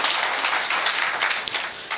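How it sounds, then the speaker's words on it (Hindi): Audience applause at a Hindi comedy poetry gathering, a dense, steady wash of clapping lasting about two seconds with no voices over it. "एक बार जोरदार ताली बजाइए"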